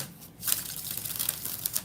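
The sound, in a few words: shuffling tarot cards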